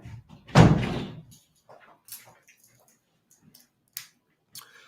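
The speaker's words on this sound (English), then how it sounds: "Let me shut this door." A door shuts with one loud, close thud followed by a brief rattle, then a few faint clicks and small knocks in an otherwise quiet room.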